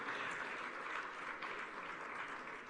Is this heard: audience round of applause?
yes